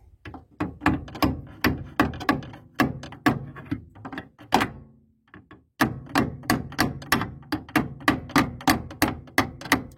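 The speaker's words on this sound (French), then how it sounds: "Je vais l'aider avec un petit coup de marteau, légèrement." Rapid, sharp metallic light hammer taps in a steady rhythm during repair work on a Peugeot 306, close by, pausing briefly midway before resuming at the same brisk pace.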